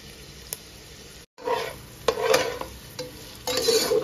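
Onions frying in hot oil for a chicken biryani, a steady close sizzle broken by several stirring scrapes and clinks, with a brief dropout in the middle and no talking.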